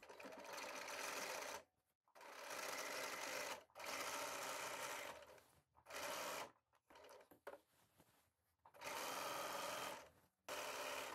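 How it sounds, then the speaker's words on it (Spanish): A sewing machine stitching the collar of a summer dress, running in loud steady bursts of a few seconds each, separated by short silent stops. "ahora voy a coser el cuello a distancia de un centímetro desde aquí"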